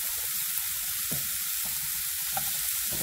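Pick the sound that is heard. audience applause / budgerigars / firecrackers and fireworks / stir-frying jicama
stir-frying jicama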